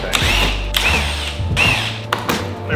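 A power drill spins out small bolts holding the front lip on a 2023 Subaru WRX, several short whirring bursts with pauses and thunks between them, close and fairly loud, with no talking.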